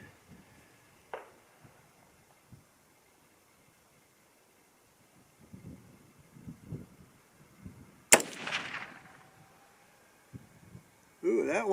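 A single sharp 6.8 SPC II rifle shot fired with a 90 grain Speer Gold Dot hunting bullet cracks out loud and close, trailing a brief echo, with quiet shuffling around it and another burst of noise at the end.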